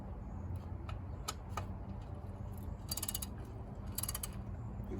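Socket wrench tightening hardware on a Jeep brake drum: faint ratchet clicks and short bursts of rapid clicking over a steady low hum of background noise.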